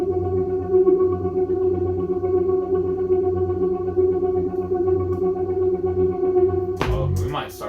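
A Serum software synth patch in a beat production plays a steady, chorused and distorted tone with a pulsing low end for several seconds, then cuts off into brief clicks and noise.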